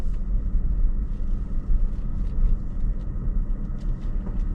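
A Rivian R1S towing a Casita travel trailer rolls into a charging station outside Orangeburg, South Carolina, a steady low rumble of tires and road noise, close and continuous with no talking.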